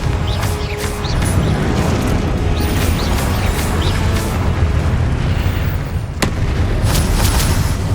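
A Confringo spell explosion in the video game Hogwarts Legacy, a loud, sustained rumbling blast with repeated booming crashes layered over a constant roar, with no talk.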